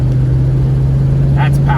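A 1936 Ford with a flathead V8 engine drones steadily under load through a quick second-to-third gear shift, a loud constant low hum heard from inside the car with someone talking over it.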